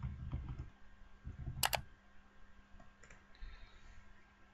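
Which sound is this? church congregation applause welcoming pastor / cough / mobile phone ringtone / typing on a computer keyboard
typing on a computer keyboard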